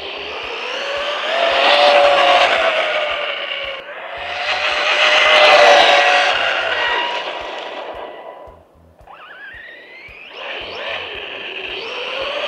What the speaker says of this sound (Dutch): Dat gaat hard zat hoor, voor een Rustler 4x4.